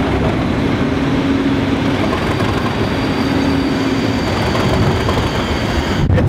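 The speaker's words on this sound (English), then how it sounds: "For a proper train, class 37. Okay. It's gonna make a hell of a noise" A heavy Class 37 diesel locomotive hauling passenger carriages rumbles steadily past, loud and close, with a deep engine drone and grinding rail noise throughout, and no voices.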